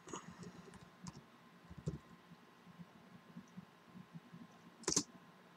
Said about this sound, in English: You type in Fastboot.